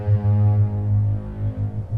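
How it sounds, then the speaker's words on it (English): Deep animated bass pad from the Cinepads sample library, a low throbbing hum that swells and pulses in slow waves, steady and alone with no voices. "a deep bass sound, but with a bit of animate."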